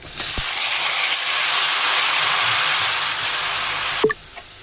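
Boiled vegetables being added to hot oil for a mixed-vegetable labra bhaji send up a loud, steady sizzle and hiss that runs unbroken, then a sharp clatter near the end as it settles.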